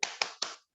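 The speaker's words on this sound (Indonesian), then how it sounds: "Sebelumnya kita tepuk semangat dulu aja." Three sharp hand claps in quick even succession as a group spirit clap, crisp and close with short ringing tails, then silence.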